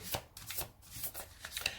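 A Spirit Animal Oracle card deck is shuffled in a run of quick, crisp riffling bursts that repeat in a steady rhythm, close and clear with no talking.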